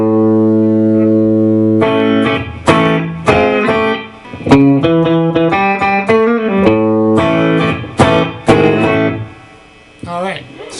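Distorted electric guitar plays a blues lick at full speed, alone, with a held note opening into a run of punchy bent notes and slides, loud and close, trailing off near the end.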